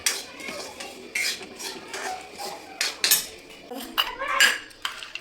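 Semolina roasts in ghee in a metal pan while a spoon stirs and scrapes it continuously, giving soft, irregular clinks and scraping taps close by, with no talking.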